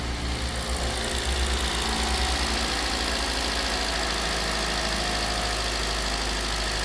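A car engine idles steadily at close range after a repair, a continuous low rumble with a faint ticking texture and no talking.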